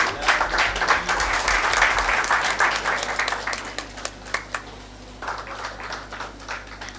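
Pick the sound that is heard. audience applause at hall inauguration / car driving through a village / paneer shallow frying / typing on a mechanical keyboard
audience applause at hall inauguration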